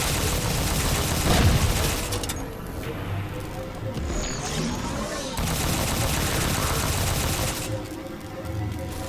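Turret gunfire in the video game Halo 4 rattles in a dense, continuous barrage of rapid shots with booming impacts, loud and close throughout.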